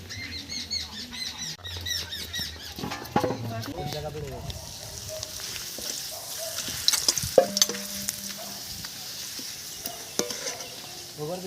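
Eggplant slices for nim begun sizzle in hot oil, a steady frying crackle that rises after a few seconds, with a voice talking over the start.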